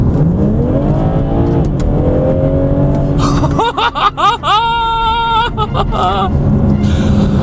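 A 2016 BMW 1 or 2 Series engine revs hard nearby, rising and falling in sharp bursts with crackling pops between, while a voice talks over the start.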